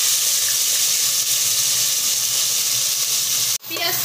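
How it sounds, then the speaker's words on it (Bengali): Onions fry in hot oil for a Bengali mutton kasha, giving a loud, steady, close sizzle that runs unbroken before cutting out sharply near the end and then resuming. "পেঁয়াজগুলো ভেজে নেব"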